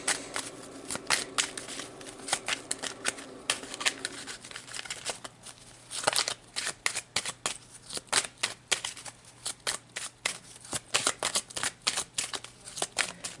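Tarot cards shuffled by hand in a quiet room, a long run of crisp riffling and flicking bursts in irregular rhythm, close and fairly soft, with no talking.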